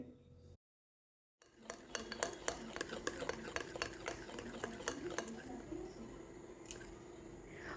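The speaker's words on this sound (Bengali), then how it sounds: "এবার সুজিটাকে খুব ভালো করে এইভাবে চামচ দিয়ে ফেটিয়ে নিতে হবে" Spoon whisking semolina batter in a bowl, a run of quick scraping clicks and taps after a brief silence, close and fairly quiet, with a faint hum underneath.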